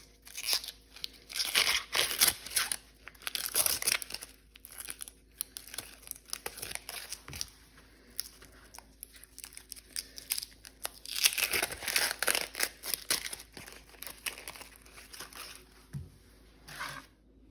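Dry onion skin is peeled by hand, a close, crisp crackling and tearing that comes in irregular bursts with short quiet gaps, with no voices.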